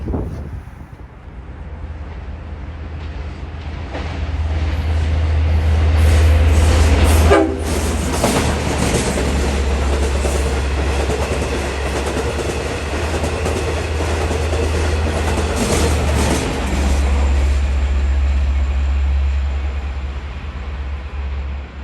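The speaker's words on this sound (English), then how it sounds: "the train's going to appear right beside me" A train rolls into a New York station loud and close, with a steady heavy rumble, a brief horn blast and rattling wagons that carry on for the whole stretch.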